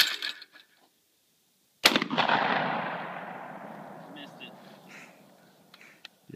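A shotgun fires once at a clay skeet target: a sharp, loud blast that rings out and trails off into a long, rolling echo across open ground, with a brief lull of quiet just before the shot.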